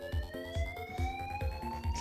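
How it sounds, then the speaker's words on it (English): A fire alarm sounds indoors as a loud, steady electronic tone that slowly sweeps upward, with rhythmic low thumping pulses repeating underneath throughout. "Oh, it's the fire alarm."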